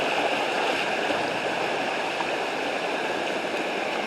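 Broad, steady roar of a river waterfall, heard from close beneath the falls, a dense continuous wash of falling water with no talk over it.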